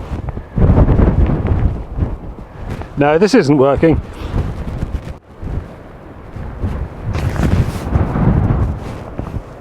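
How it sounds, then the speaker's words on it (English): Gusting wind buffets the microphone on a coastal clifftop path between Padstow and St Ives, heavy low rumbling blasts under a man's brief spoken remark. "Ah, still windy."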